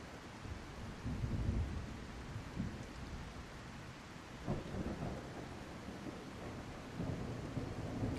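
Rain pours without a break in the medieval zombie survival game God Save Birmingham, with low thunder rolling in and out under the constant downpour.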